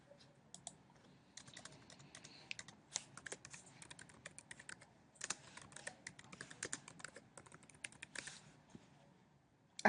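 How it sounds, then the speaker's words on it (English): Typing on a computer keyboard while entering a website page name, with a steady run of quick, close key clicks and bursts of faster tapping for several seconds, no talking. "Let's type in the whole thing."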